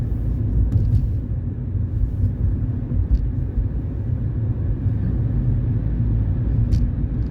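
A car accelerating up to 40 after leaving a roundabout, heard from inside the cabin as a constant low engine and road rumble, steady and fairly loud, with no voices.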